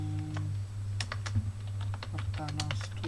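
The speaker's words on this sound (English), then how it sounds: "going to type Aptana" Computer keyboard typing while entering a search term on an Ubuntu 16.04 desktop, heard as several quick bursts of key clicks over a steady low electrical hum.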